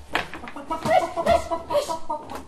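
Hens clucking in a village garden, a scattered run of short, uneven clucks at moderate distance, busy and fairly loud against faint background noise.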